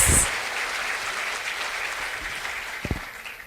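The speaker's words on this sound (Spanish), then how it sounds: "Denle un aplauso al Señor." A church congregation applauds during a service, a sustained wash of clapping heard from a moderate distance, with a couple of louder thumps near the end.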